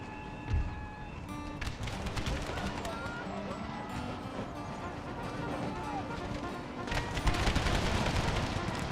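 Musket volleys crack out in Empire: Total War, a Civil War Brothers vs. Brothers mod battle, as dense bursts of gunfire rattle across a noisy field with a sharp near shot early and heavier firing near the end, under commander talk.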